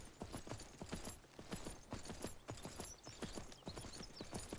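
Horse hooves gallop in quick, steady clip-clop beats throughout, with a brief neigh, set in the survival video game Myth of Empires while fleeing wolves.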